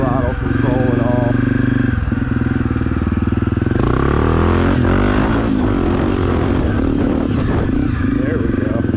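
A Honda CRF250F dirt bike engine runs close by with carburetor throttle adjustments, a loud continuous buzzing drone rising and falling as it revs up and settles.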